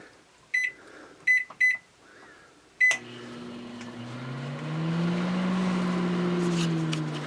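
A microwave oven beeps several times as it is set, then the door thuds shut and a steady hum begins as it runs, cooking instant noodles, growing slightly louder and staying constant to the end.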